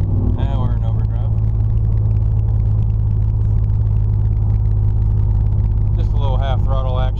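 Interior sound of a car with no mufflers, a deep, loud, continuous exhaust rumble droning steadily at half throttle, with people talking over it at the start and end.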